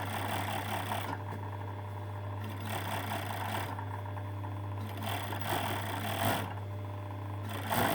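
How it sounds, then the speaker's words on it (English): An overlocker stitches around the neck opening of a plain poncho with the right sides of the fabric together, giving a steady close whir with rhythmic mechanical rattling that pauses and restarts in short runs. "I'm just going to overlock around the neck."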